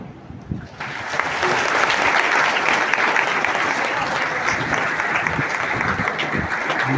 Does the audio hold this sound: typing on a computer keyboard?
no